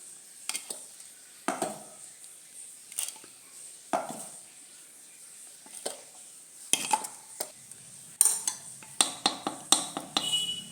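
A spoon scrapes and taps against a pot while kumkum powder mixed with thazhampoo essence is stirred, giving sparse, separate clinks and scrapes that come faster and closer together toward the end.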